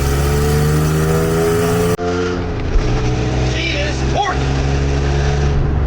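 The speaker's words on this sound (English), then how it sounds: "We're about to tackle our first on-ramp in the straight 6." A straight-six car accelerates hard up a highway on-ramp, its loud engine note steady and close, with a brief interruption partway through as the pitch shifts, like a gear change.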